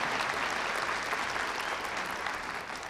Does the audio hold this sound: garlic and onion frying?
no